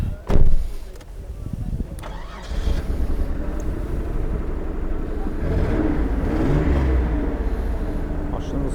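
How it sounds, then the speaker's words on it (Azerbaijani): A car's original engine idles at a used-car market after a loud thump at the start, a steady low rumble continuing evenly underneath, with people talking nearby. "Hal-hazırda da yəni öz motorunun səsini sizə təqdim edə bilərəm"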